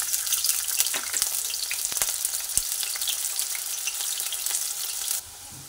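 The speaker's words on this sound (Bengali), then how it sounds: "প্রথমে কুচানো পেঁয়াজটা দিয়ে পেঁয়াজটা ভেজে নিচ্ছি।" Chopped onions hitting hot oil in a pan, giving a loud continuous crackling sizzle with scattered pops, which drops away abruptly near the end.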